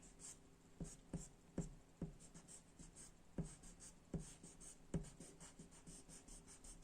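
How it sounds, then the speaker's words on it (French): An eraser rubs out pencil lines on paper in a steady series of short, rhythmic strokes, faint and close, with no voices. "Commencez à gommer tous les traits qui ne vous servent plus."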